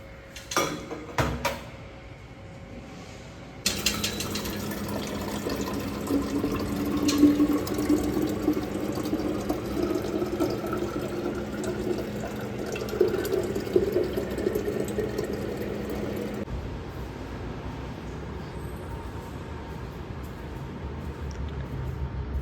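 Water runs steadily from a water dispenser in a hostel wing, a continuous close hiss and splash lasting most of the stretch after a few brief knocks, with no talking.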